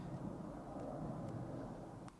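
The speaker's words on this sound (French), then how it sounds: "c'est l'avion postal qui passe là." A mail plane passes overhead as a steady, broad low rumble that holds at moderate level throughout, fairly distant and unaccompanied by talk.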